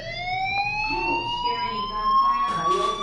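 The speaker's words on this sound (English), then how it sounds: "Hey, do you hear that fire alarm?" A fire alarm sounds inside the video game Life is Strange, a steady rising electronic tone with bright harmonics that holds for the whole stretch at moderate loudness, with no one talking over it.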